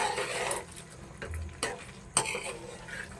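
Chicken curry stirred in a pan, giving a few scraping, clattering strokes with soft sizzling, close and moderately loud, with no talk.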